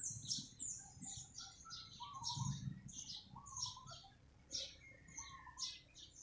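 Many small birds chirp and tweet in trees outside an office, a busy overlapping chorus of quick high calls at moderate distance, over a soft low rumble of background noise.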